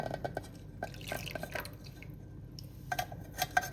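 Thick Bombay halwa batter, made with cornflour, being stirred in a pan over a low flame, giving soft wet squelching and dripping sounds with light clinks of a utensil against the metal, close and fairly quiet, with no talking.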